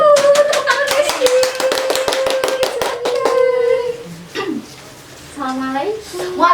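A few people clap for a dentist guest at a children's talk event, sharp rhythmic claps for about three seconds, then voices speak and children answer.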